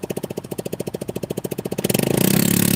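A Razor 150 scooter engine idles with a steady, rapid pulsing putter, then picks up into a louder, denser drone toward the end; no talking over it.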